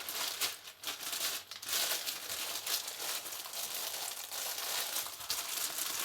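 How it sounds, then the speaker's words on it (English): Continuous crinkling and rustling of a plastic bag being handled up close, steady and fairly quiet with no talking. "And I just keep it in a strong plastic bag."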